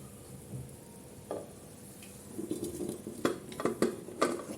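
Pots and utensils clatter as mutton stew is moved into a pressure cooker, starting with a quiet stir and building into a series of sharp, close metallic clanks and scrapes in the second half.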